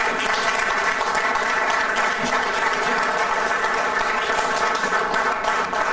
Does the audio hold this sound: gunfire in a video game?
no